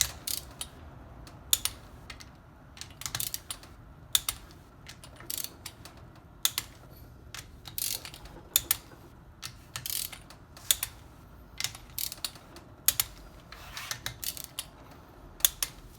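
A torque wrench tightens the top end bolts on a Banshee engine, giving a run of sharp, close ratcheting clicks in irregular bursts with quiet gaps between them.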